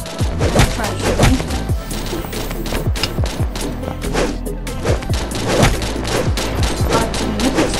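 An opponent's gunfire in a Fortnite-style battle royale game cracks in rapid bursts of close, loud shots, running repeatedly under music and game effects.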